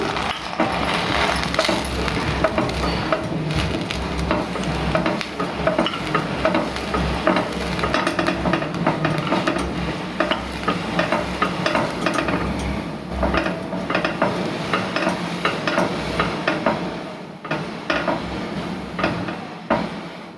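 Pav buns toasting in butter on a dosa griddle, a steady close sizzle with scraping and clinking of a spatula against the metal surface throughout.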